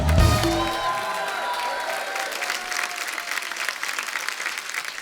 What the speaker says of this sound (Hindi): बहुत बहुत स्वागत और जोरदार तालियां